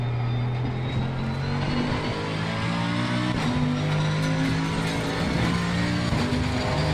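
A GT3 race car engine in Assetto Corsa Competizione, racing at the Hungaroring, drones loud and continuous, its pitch climbing and dropping through gear changes with other cars audible nearby.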